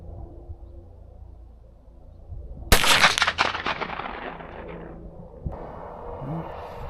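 A single loud gunshot from a 10mm Marlin rifle cracks out after a quiet stretch, then rolls away in a long echoing rumble, with faint background noise afterward.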